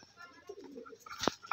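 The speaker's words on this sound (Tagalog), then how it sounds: "Ito yun mga kalapatids." Pigeons kept in a backyard loft give soft, low cooing calls, quiet and close, with a couple of brief sharper bird sounds near the end.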